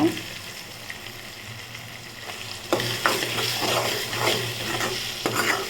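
Ground coconut paste going into a drumstick stir-fry: a quieter pan sizzle at first, then louder spatula scraping and stirring strokes over the frying from midway, with no talk.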